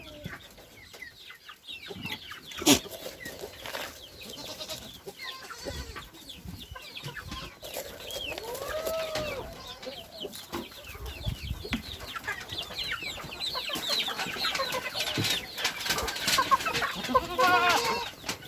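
Pet chickens cluck and call on a small farm that also keeps goats, a busy flock heard close with scattered squawks and a faint rooster crow over steady outdoor background noise.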